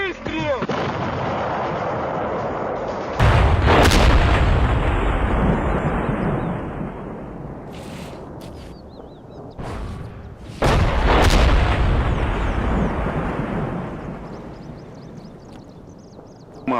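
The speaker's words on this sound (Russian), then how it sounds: "Орудие! Выстрел!" Two heavy artillery shots boom close by, several seconds apart, each followed by a long rolling echo that fades out.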